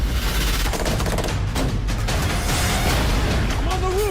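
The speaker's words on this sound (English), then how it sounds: "We're under heavy fire!" Heavy gunfire in a chaotic firefight, dense and continuous with loud bursts throughout, while voices shout over the shooting.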